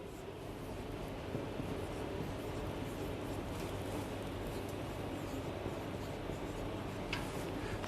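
Steady scratchy writing strokes, faint and close, a continuous soft rasp running without pause and with no voice over it.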